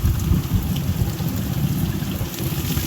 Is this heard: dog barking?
no